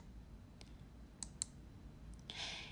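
A computer mouse clicks on an on-screen Previous Page button in image-analysis software, giving a few short, sharp, quiet clicks spread over a couple of seconds, followed by a faint brief hiss, all in a near-silent room.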